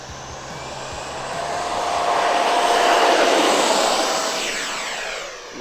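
An RC F-15 Eagle model jet flies past on a landing approach, its high-pitched ducted-fan whine swelling louder toward the middle and then fading as it passes.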